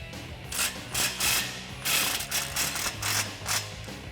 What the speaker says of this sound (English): I'll tighten this down with a 15mm socket.